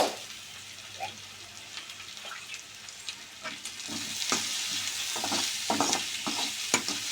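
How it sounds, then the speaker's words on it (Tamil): Onions frying in a pan for onion thokku, stirred now and then: a steady close sizzle with repeated scraping strokes that grow busier and louder toward the end. "உப்பு போட்டு நல்லா கிளறி விட்டுருங்க. இன்னும் கொஞ்சம் வதக்கணும்."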